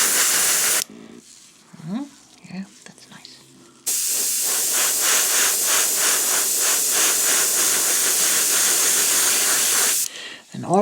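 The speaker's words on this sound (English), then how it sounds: "always be in motion with your airbrush. Don't stick too long at one spot." An airbrush sprays paint onto a miniature figure, a loud, steady hiss running for several seconds after a stretch of quieter handling noise, with a brief burst returning at the end.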